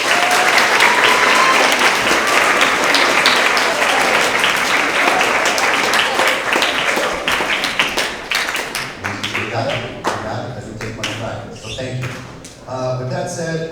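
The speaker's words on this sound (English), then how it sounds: "Let's see if we can put together just a big round of applause for ourselves" A crowd of sixth- to eighth-grade students bursts into a big round of applause at an end-of-year award assembly. The dense clapping lasts about nine seconds, then thins out, and a voice starts speaking over the scattered last claps.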